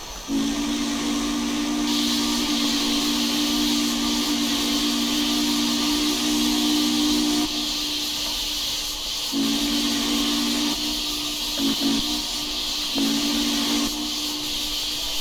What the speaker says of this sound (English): That's a good sounding whistle.